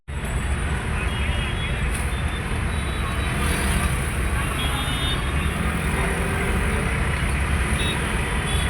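Heavy road traffic in Ahmedabad, with buses and auto-rickshaws, makes a constant loud roar of engines and tyre noise that fills the whole stretch without a break, with a faint hint of voices underneath.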